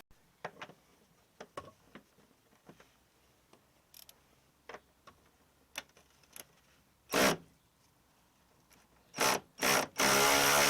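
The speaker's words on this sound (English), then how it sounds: "So the first thing, let's get the shock absorbers off." Ratchet undoing Torx bolts on a rear shock absorber of a 2011 Vauxhall Zafira B, scattered sharp clicks and ticks at first, then several loud short ratcheting bursts toward the end, close and alone.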